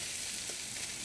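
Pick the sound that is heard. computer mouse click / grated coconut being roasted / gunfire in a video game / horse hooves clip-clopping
grated coconut being roasted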